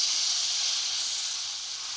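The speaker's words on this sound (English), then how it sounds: "Obviously, you gotta hear that fizzing sound. So add quite a bit of milk." Milk fizzing and sizzling as it is poured into a hot pasta pot, a steady bright hiss that fades slightly toward the end, heard alone.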